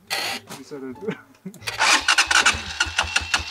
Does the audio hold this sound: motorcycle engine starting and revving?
yes